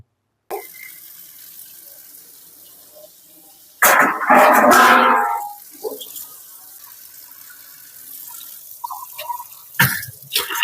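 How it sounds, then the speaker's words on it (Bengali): Rice is washed by hand under a kitchen tap, with a loud burst of splashing and swirling water, scattered drips and lighter sloshes, then another short splash near the end. "ভালো করে চালটা ধুয়ে নিতে হবে"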